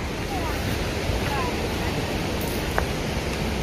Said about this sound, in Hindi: वाटरफॉल आवाज आ रहा है